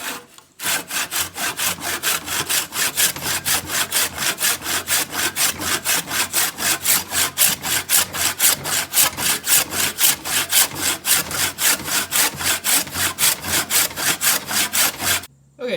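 Steady back-and-forth hand sawing through a sawmill blade being cut open for a scythe, about three strokes per second, close and loud, running continuously for roughly fifteen seconds with no talk.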